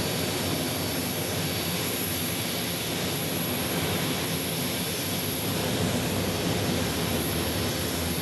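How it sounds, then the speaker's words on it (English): A Porter Airlines plane arriving from Toronto at Phoenix Sky Harbor gives a loud, even jet roar with a thin high whine on top, sustained throughout without speech. "We also have Porter Airlines incoming our way from Toronto"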